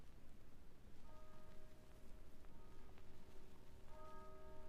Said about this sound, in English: That chapel bell. Ting-a-ling for the wedding.